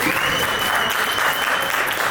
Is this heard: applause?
yes